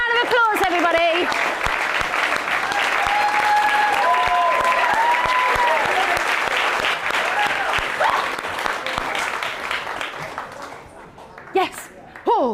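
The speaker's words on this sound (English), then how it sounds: "Give them a round of applause, everybody." An audience at a Shakespeare performance grand final claps loudly and steadily, with voices mixed in, before the applause tapers off and a few scattered claps remain near the end.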